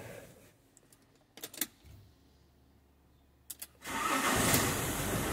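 A Fiat Ducato van's engine cranks and fires up, short starter bursts followed by a loud, steady idle that fills the end of the clip, recorded close by in a workshop setting during wheel bearing work.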